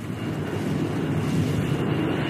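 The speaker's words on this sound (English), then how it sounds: "And once again, there came the sound of jet engines." A jet engine sound effect in a Transformers storybook narration: a steady, broad roaring whoosh that holds loud and even throughout, with no voice over it.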